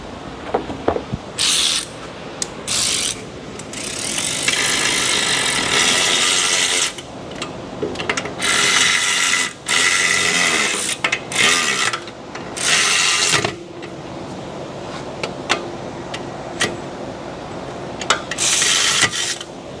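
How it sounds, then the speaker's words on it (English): An electric ratchet tool tightening upper and lower brake caliper bolts during a brake repair, giving several bursts of whirring, clicking mechanical noise separated by short pauses, fairly close with no talking. "we did get some decent torque on that with the electronic tool"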